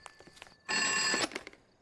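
A telephone rings once in a short electronic burst, fairly loud, with light footsteps or taps before and after it and no talking.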